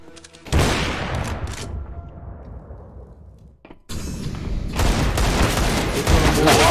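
Rapid bursts of gunfire in Valorant on the Split map, loud sharp volleys with a short quieter gap, then another dense stretch of shots.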